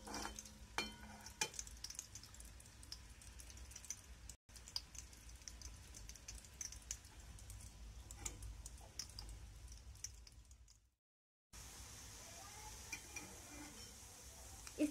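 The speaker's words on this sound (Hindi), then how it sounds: "इसे थोड़ा मीडियम फ्लेम पे आप फ्राई कर सकते हैं।" Singhade flour pakoras sizzle steadily in hot oil over a medium flame, a faint continuous crackling hiss with small pops, briefly cutting out twice.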